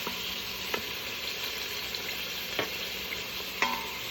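Food searing in an Instant Pot while making zucchini noodle ramen, a steady close hiss of sizzling oil broken by a few sharp utensil clicks, with no voices.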